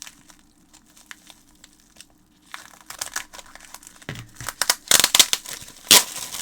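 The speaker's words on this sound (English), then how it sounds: "scissors, last resort." Scissors cutting open plastic packaging produce crinkling and snipping after a quiet start, growing into louder sharp crackles and cuts near the end.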